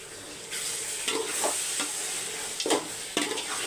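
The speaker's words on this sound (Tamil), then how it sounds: "அதுக்கப்புறம் இஞ்சி பூண்டு பேஸ்ட்டு போட்டுக்கோங்க" Ginger garlic paste sizzles steadily in a hot pan for chicken thokku, with a spoon scraping and stirring through it in several distinct strokes over the continuous frying hiss.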